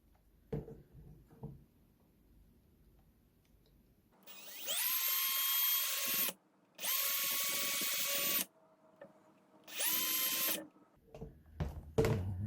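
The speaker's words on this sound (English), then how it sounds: "I'm going to get the drill, a little bitty drill bit. I'm going to drill a hole right there." A small electric drill with a tiny bit drills a hole in a homemade fishing lure, whining in three bursts, the motor spinning up high and steady, separated by short pauses and faint handling noise.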